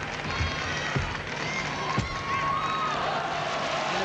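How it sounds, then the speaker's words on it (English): Arena crowd at a women's team final of the 1999 world gymnastics championships, a steady roar of cheering and applause across the whole stretch, with a few sharp claps and shouts rising out of it. "as you hear that crowd, they are really into this competition"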